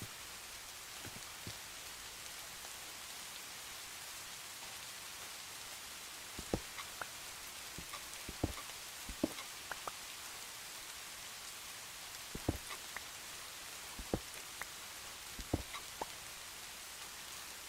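Rain falls in the video game Minecraft as a soft, steady hiss of droplets, with scattered sharper drip taps standing out from the faint wash.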